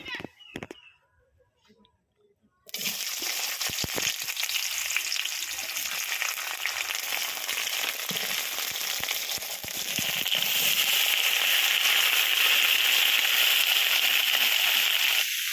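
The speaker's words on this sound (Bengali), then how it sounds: "এবার কেটে রাখা বেগুন, আলু, সিম, গাজর সব একসঙ্গে ভেজে নেব।" Eggplant, potato, beans and carrot drop into hot mustard oil in a pan and burst into a loud, steady frying sizzle after a brief quiet start, growing stronger and more crackly toward the end, close and continuous.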